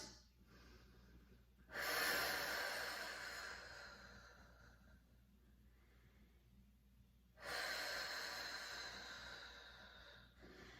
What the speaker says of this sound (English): start your long, deep breaths in and out